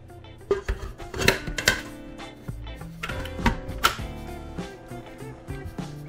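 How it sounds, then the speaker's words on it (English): A bread machine on its low setting kneads honey whole wheat dough, giving a close, irregular clatter of mechanical knocks and clicks over a steady motor hum, with no talking. "The next step is to knead the dough for 8 minutes on a low setting"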